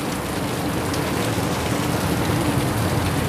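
Heavy rain pours steadily, a dense, even hiss of drops hitting surfaces with no letup, close and loud throughout.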